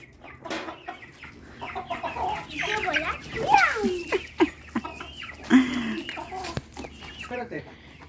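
Chickens cluck and squawk busily up close, with a rooster's calls rising above the flock in irregular bursts.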